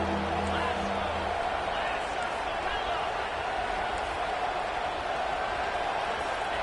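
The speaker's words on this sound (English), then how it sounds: "the crowd coming to life here, trying to help this defense down in the red zone" A college football stadium crowd at Washington vs Utah roars as it rallies behind the defense in the red zone. The broad, steady din sits under continuous commentator talk.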